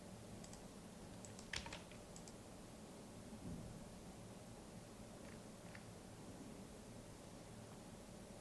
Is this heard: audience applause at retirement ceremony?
no